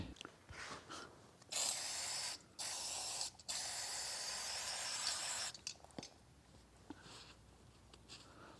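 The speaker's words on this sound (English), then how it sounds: "Brake cleaner always works fine for this kind of work." Brake cleaner aerosol sprays onto clutch parts in long, loud hissing bursts, with brief pauses between them, followed by quieter short spritzes and faint handling noises in a workshop.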